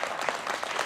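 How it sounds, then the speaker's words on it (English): Audience applause at an outdoor music-in-the-park concert during a strawberry festival, heard as a brief, steady wash of many hands clapping at moderate distance. "Give them another round of applause."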